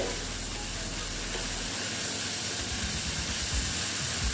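Spices and masala frying in hot oil for a Bengali ridge gourd (jhinge) curry, a steady close hiss and sizzle that runs through the whole clip with no talking.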